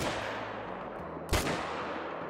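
A rifle shot in the hunting game theHunter: Call of the Wild, fired at a buck: one sharp, loud crack partway through, rising over a steady outdoor ambience and then fading.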